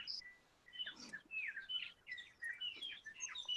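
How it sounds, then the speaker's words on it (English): Several birds chirp and tweet nearby in quick, overlapping calls, a lively stream of high whistles and twitters with no one talking. "I love hearing those birds"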